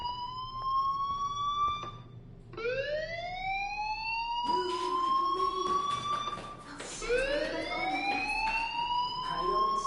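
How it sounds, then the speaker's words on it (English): A school fire alarm in the video game Life Is Strange wails in repeated rising sweeps, loud and close, restarting several times with a brief gap, over a low rumble of background sound. "Hey, do you hear that fire alarm?"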